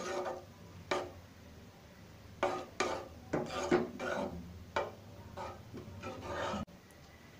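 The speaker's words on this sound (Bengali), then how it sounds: "এখন আমরা কনডেন্স মিল্ক অ্যাড করব অ্যাড করে এটা ভালোভাবে মিক্সড করে দেবো" Condensed milk being mixed into a thick malai kulfi mixture, a spoon scraping and rasping against the bowl in repeated uneven bursts, close and fairly quiet, with no voices.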